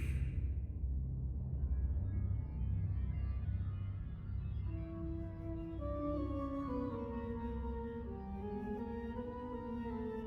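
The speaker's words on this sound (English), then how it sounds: "That sound, that's the sound of the Reaper flute!" The Reaper flute from Infinity Strash: Dragon Quest The Adventure of Dai: a breathy flute melody rises over a low droning backdrop, its notes slowly stepping and sliding, steady and fairly loud, with no talking.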